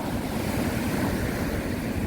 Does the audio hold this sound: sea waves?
yes